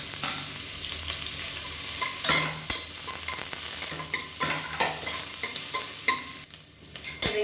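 Shallots sizzle and sauté in hot oil, crackling steadily as they are stirred now and then with a utensil scraping the pan.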